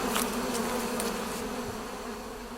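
A steady drone of many bees buzzes at a beekeeper's apiary in Taiwan, a continuous close swarm hum that holds at even loudness throughout, with no voices.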